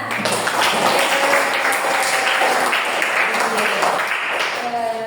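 A class of students applauding together in a classroom, loud, dense clapping that continues without a break, with a few voices mixed in.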